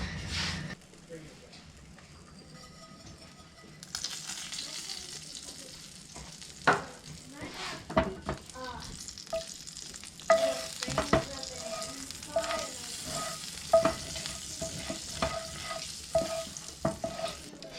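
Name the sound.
oil heating and sizzling with black mustard seeds for dal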